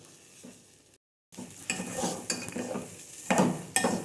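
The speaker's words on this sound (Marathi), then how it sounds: "तांदूळ आणि डाळ चांगली भाजून घ्यायची" Rice and lentils dry roasting in a pan while being stirred: irregular scraping and rustling strokes with soft grainy sizzle. A short silent gap comes before the stirring grows louder and brisker.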